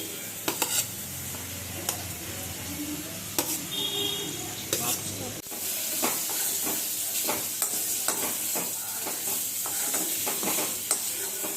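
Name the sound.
stirring and frying ingredients in a pan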